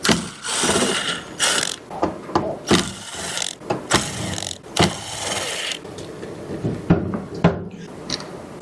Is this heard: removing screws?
yes